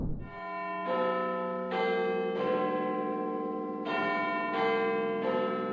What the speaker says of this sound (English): Just the bell.